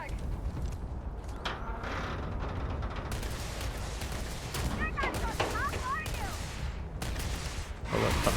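Heavy gunner firing in the sci-fi video game Starfield, repeated bursts of gunfire and mechanical clanks, with some sharp metallic whistling tones in the middle, dense and continuous.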